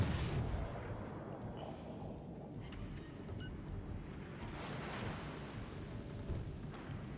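Naval gunfire in the video game World of Warships Legends: a continuous rumbling wash of distant booming guns and low explosions, steady and dense throughout, with no talk.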